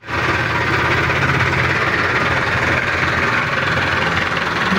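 A tractor engine runs steadily on a village lane, a loud, continuous close rumble with mechanical knocking and vibration that holds without a break.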